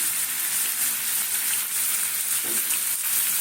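Tomato frying in a pan during a home fish curry cook, a steady close hiss and crackle of oil with faint stirring, continuous throughout with no talking.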